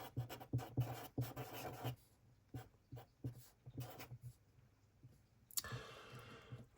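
Close, intimate pen strokes scratch across paper while notes are jotted down, coming in quick scratchy bursts, then sparser separate marks with pauses, and ending in a brief rustle.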